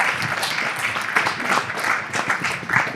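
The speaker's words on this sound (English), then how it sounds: "Can we have a round of applause for our panelists" A live audience applauds panelists at a culture and fashion panel event in Melbourne, a dense, continuous burst of clapping lasting a few seconds.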